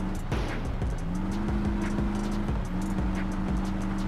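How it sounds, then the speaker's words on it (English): Car engine in My Summer Car, a BMW E30 being restored, revving steadily as the driver holds a handbrake donut, with a sustained engine drone and faint tire scrub throughout, loud and continuous with no talk. "We're doing a donut"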